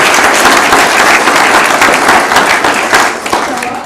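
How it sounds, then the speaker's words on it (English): Loud room applause at a city commission meeting, honoring people who help veterans, with dense clapping that holds steady and then begins to thin and taper near the end. "So could you give them a round of applause?"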